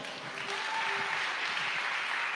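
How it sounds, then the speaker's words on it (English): A crowd claps steadily for a couple of seconds, a dense wash of applause with no voices over it. "let's bring a round of applause"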